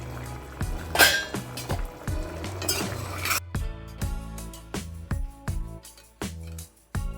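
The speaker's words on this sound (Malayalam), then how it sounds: "എന്നിട്ട് ഇളക്കി ഒന്നും കൂടെ മൂടി വയ്ക്കണം." Mutton curry in a pot, with a spoon clanking and scraping against the metal in a rhythmic run of knocks, then a lid set down, near and loud with no talk.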